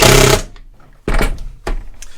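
Power drill driving screws to fasten a homemade bicycle carrier onto a motorcycle mounting plate, three loud bursts of whirring, the first the longest, separated by short pauses.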